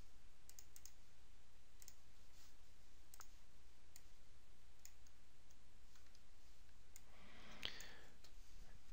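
Faint, crisp computer mouse double-clicks while editing notes in SolidWorks drawing software, a few sparse clicks over a quiet background with no talking.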